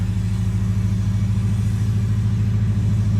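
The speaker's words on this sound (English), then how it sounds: "Okay, the car starts." A 2006 Subaru Forester 2.5X engine idles just after a fuel pump replacement, a steady low rumbling hum heard up close and unbroken, with no voices.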